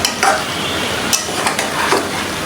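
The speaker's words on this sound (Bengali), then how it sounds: "এইখানে হচ্ছে এখন মশলাগুলো সব কষাবো" Spices being sautéed in a small kadai, heard as a faint steady sizzle with a few light clinks and scrapes of a spoon against the pan, close by and without talk.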